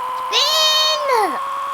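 A single cat meow, a clear close wail that rises, holds, then bends downward over about a second, heard over a faint steady background hum.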